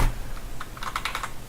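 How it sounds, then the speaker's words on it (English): Rapid clicks from a clicky computer keyboard being typed on, a quick burst of close, crisp keystrokes with no talking. "sorry about my keyboard. Let me get my non-clicky keyboard"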